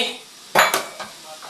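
Chicharon drops into a pot of pakbet vegetables with a couple of sharp clanks and scrapes of a utensil against the pot, followed by softer stirring clatter against a quiet background.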